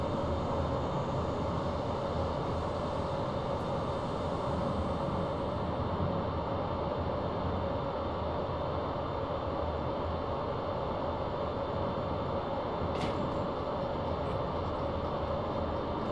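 A steady, droning BR103 electric locomotive in Train Simulator hums continuously with a constant tone and noisy rumble during wheel slip, unchanging throughout, with one brief click near the end.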